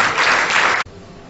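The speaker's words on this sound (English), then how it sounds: "A warm round of applause," Warm applause from an audience at an insurance agents' and brokers' association board event in New York, a dense steady patter of many hands that cuts off abruptly partway through, leaving quiet room tone.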